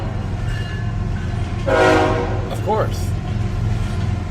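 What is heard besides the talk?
train passing by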